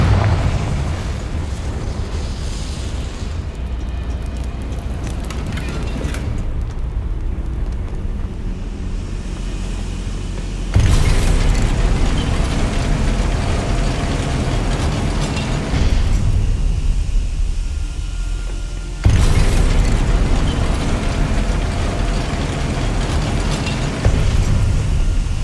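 Confringo spell explosions from Hogwarts Legacy, loud rumbling booms with big sudden onsets around the middle and later, each trailing into a long roar of fire and debris.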